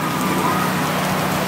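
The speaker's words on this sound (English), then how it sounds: "it's absolutely pouring down rain" Heavy rain pours down in a steady, dense hiss at Bloor West Fest, a street festival in Toronto, with flooding water in the streets; the downpour stays loud and unbroken throughout, with no clear voices.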